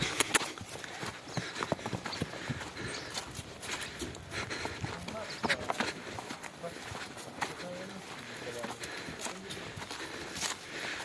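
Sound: horse hooves clip-clopping while being led

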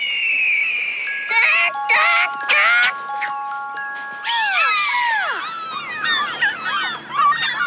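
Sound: hawk call

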